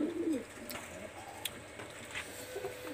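Pakistani high-flyer Teddy pigeons give a soft, low coo near the start, then only faint murmuring and rustling continue against a quiet background.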